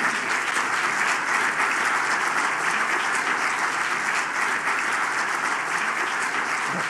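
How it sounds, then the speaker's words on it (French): Audience at a 30th anniversary event of GSC, a French executive insurance association, applauding the association's staff, a steady, sustained wash of many hands clapping throughout, even and full with no talk over it. "vous pouvez les applaudir."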